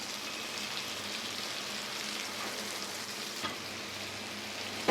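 Tomatoes go into a pan of frying onions for a senai kilangu (elephant foot yam) roast, giving a steady, close sizzle that runs evenly throughout, with a faint clink near the end.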